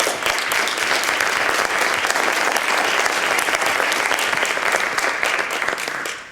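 Steady, dense applause from a large audience thanking the panellists at the close of a roundtable on supporting young athletes, loud and continuous throughout, tapering slightly at the very end with no talk over it.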